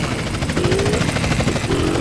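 A helicopter flies low over a beach road in GTA San Andreas, its steady rotor chop and engine drone filling the whole stretch at a constant, close, loud level.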